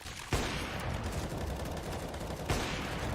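Two sharp gunshots ring out in a CS:GO match on the Inferno map, one near the start and one near the end, with a dense crackle of game noise between them.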